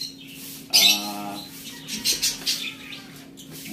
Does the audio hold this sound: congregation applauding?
no